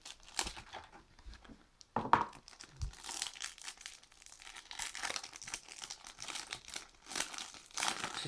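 A trading card booster pack wrapper torn open by hand: close, faint crinkling and ripping of foil plastic in irregular bursts, with a sharper tear near the start and steady rustling afterward, and no speech.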